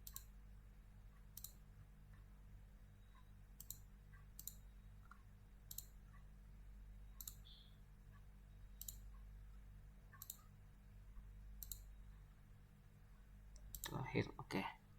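Sparse, sharp mouse clicks while working in Mastercam CAM software, spaced irregularly about a second apart over faint room hum, with someone speaking quietly and a brief louder rustle near the end.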